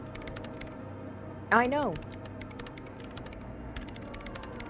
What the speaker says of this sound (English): Her hands typing hundreds of commands into the machine.